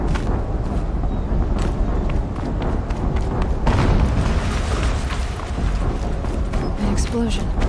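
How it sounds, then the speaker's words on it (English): Explosions in the Horizon Zero Dawn video game, heavy booms under a dense, constant game soundscape of rumble and clatter with talk over it. "An explosion."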